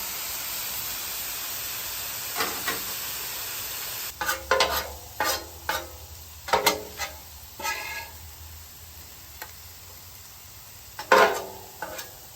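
Steak fajita meat sizzles on a hot griddle with a steady low hiss throughout, broken by a series of sharper scraping and stirring bursts close by.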